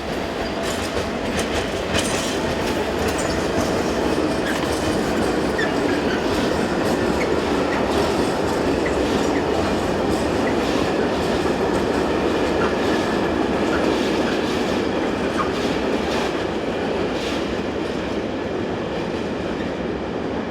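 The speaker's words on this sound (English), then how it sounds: "GZ49658, from Pieve Forgonte to Moulin conveying Chemoil hoppers. Power is provided by 465-010." A freight train of Chemoil hoppers, hauled by locomotive 465-010 on the BLS route in Switzerland, rumbles past with continuous rhythmic clickety-clack of wheels over rail joints and steady heavy rolling noise, no voices.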